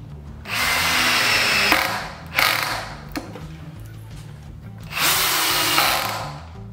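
An Einhell 18V brushless drill drives drywall screws into construction wood, three bursts of high whirring, the first and last about a second long and a short one between, close and loud with quiet gaps.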